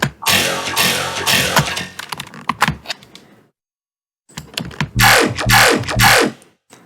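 A synth sound in a large-room Valhalla reverb, with a subtle frequency-shifter layer, plays bright, percussive bursts. After a dense first phrase it drops out to near silence for about a second, then returns with rhythmic, stuttering hits.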